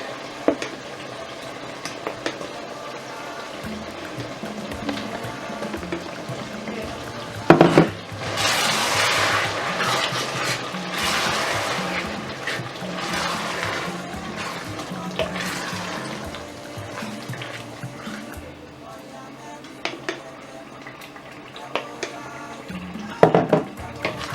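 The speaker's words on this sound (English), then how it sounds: "So I'm just going to add enough of this sauce to my minced beef" A blended sauce of tomato, chili pepper, garlic, onion and ginger is poured onto minced beef in a pan, giving a wet, splashing pour and then stirring and scraping noises, with a few sharp knocks at the start and end.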